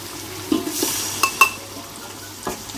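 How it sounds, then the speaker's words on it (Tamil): Curd poured into frying masala with Kashmiri chili powder and stirred steadily, a soft sizzle underneath a few sharp spoon scrapes and clinks against the pan, close by and fairly quiet, no talking. "தயிர் ஊற்றி கிண்டிக்கிட்டே இருக்கணும், ஏன்னா பிரி பிரியாக போயிடும்"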